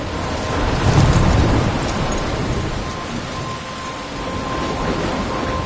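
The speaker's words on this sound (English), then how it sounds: "I'm trapped in a storm?" Heavy rain pours down in a stormy video game scene from Life is Strange, with a low rumble of thunder building early on over the constant loud hiss of rainfall, no voices.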